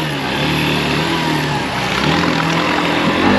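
A Hero Xtreme 160R motorcycle engine runs steadily, its exhaust submerged in water during off-road riding, producing a loud, muffled drone with a slight rise in revs toward the end.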